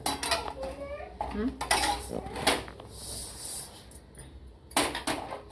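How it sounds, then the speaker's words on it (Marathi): Moong dal being dry-roasted in a pan for bhajani chakli, heard as a close run of scraping and clinking stirs with irregular bursts of rattling, no talk. "छान मुगाची डाळ भाजून घ्यायची"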